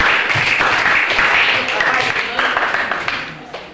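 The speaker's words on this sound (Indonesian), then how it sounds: "Mari kita beri aplaus untuk Gilbert" Classmates clap for a student in a school classroom, a dense crowd of hands sustained for several seconds and slowly thinning toward the end, with murmuring voices mixed in.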